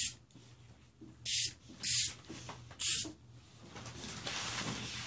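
A spray can laying light coats of paint on a movie morpher prop: three short bursts of hissing spray a second or so apart, followed by a longer steadier hiss, all close and fairly loud.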